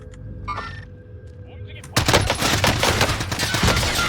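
In Call of Duty: Warzone, an AR EM2 assault rifle opens up after a quieter start, firing a dense, rapid, continuous automatic stream at close range.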